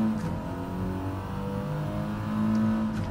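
Engine drone of an Audi TT racing down a straight in a GT racing video game, a steady sustained whine holding at high revs with little change in pitch.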